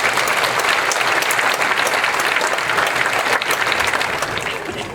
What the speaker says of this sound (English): So let's all give him a round of applause